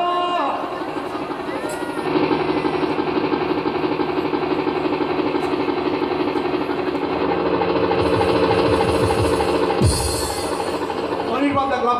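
A train rumbles and clatters past at close range, a loud, rhythmic rolling of wheels over rail joints that builds and shifts, with a high screech near the end and speech heard faintly under the noise.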